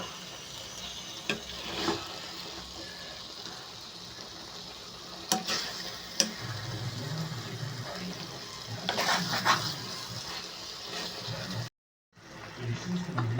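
Eggplant sesame curry, stuffed brinjal in a sesame paste, fries in a pan with a steady low sizzle and occasional scraping stirs, sometimes louder, ending with a brief dropout.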